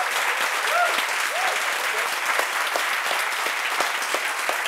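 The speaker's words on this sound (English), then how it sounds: "A round of applause for Henrik" Audience applause for a speaker at a TEDx Stockholm talk, a dense steady clapping from a large crowd that holds for several seconds, with a brief high whistle or cheer near the start.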